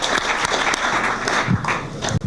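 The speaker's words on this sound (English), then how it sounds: "So a round of applause for Sam." A lecture audience applauds the speaker Sam after a talk on the psychology of being liked, a dense nearby patter of clapping that runs steadily for a couple of seconds with a few sharper claps.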